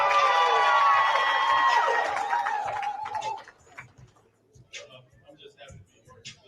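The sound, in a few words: crowd applause and cheering for a signee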